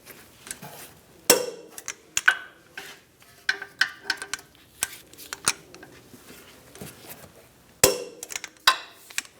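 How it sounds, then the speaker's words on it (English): A torque wrench tightens brake bolts on a 2007-2014 Cadillac Escalade during a rear brake job, giving sharp metallic clicks and clanks at irregular intervals in a quiet garage. "I'm going to torque these bolts to 122 foot-pounds."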